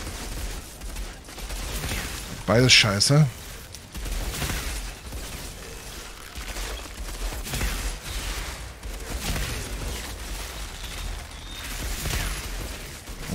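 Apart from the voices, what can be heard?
gunfire in the video game Outriders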